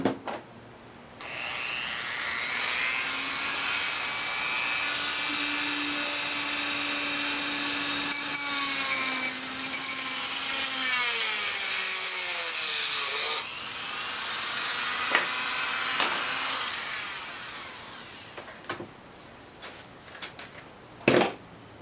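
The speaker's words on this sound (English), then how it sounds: "get your Dremel or your hacksaw and carefully cut underneath that black line that you just marked" A Dremel rotary tool cuts through a plastic craft ball to make a BB-8 lens. A steady, high whine with drifting pitch runs for about twelve seconds, followed by quieter scraping and handling clicks.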